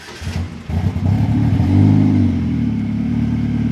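A DF Goblin kit car's engine revs hard on a test drive, its close, loud rumble rising after a brief lull and then holding a steady, throaty roar.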